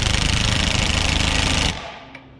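A Bosch Profactor 1/2-inch 18-volt brushless cordless impact wrench hammers a bolt tight, a loud rapid rattling burst lasting under two seconds that cuts off abruptly, followed by a faint click.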